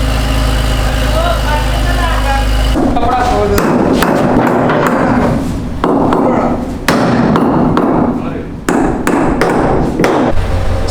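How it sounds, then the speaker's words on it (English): Nails are hammered into timber to secure cars, a Porsche 930 and a Breadvan, inside a shipping container. Loud, irregular hammer blows ring out close by over a low engine idle, with people talking. "you see the guys nail it down, tie them down as well"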